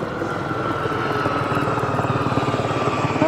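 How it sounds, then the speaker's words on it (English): A helicopter passes overhead above a Sussex beach near Brighton, its rotor chop and engine drone loud and steady, with a rhythmic pulsing throughout. "Oh, helicopter going over."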